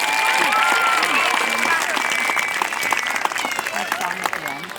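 Audience applause for fifth-grade students at a school Arbor Day event, steady clapping and crowd noise throughout, with cheering voices mixed in.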